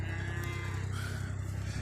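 Cows out in a sunny farm field give a low, drawn-out moo that sits close and steady for about two seconds over a constant outdoor background.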